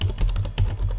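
Rapid typing on a computer keyboard, a close, steady run of key clicks with short pauses, heard alone without talk.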